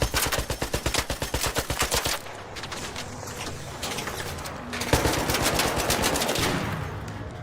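Rapid automatic gunfire from a video game rattles in fast, even bursts, first a tight loud stream, then a denser, more chaotic volley of shots that picks up again toward the end.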